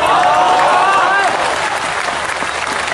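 Loud crowd clapping erupts at an Islamic religious lecture, with a voice ringing over the first second before the massed hand claps carry on alone.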